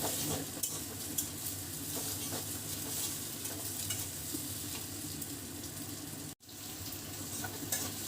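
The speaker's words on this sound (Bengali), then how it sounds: "ডিমটা ভাজার পরে এখন আমি পেঁয়াজ আর কাঁচামরিচটা একটু লাল করে ভাজব" Chopped onion and green chilli sizzle and crackle steadily in a hot pan while being stirred, a continuous close frying hiss with soft scraping, briefly dipping once before carrying on.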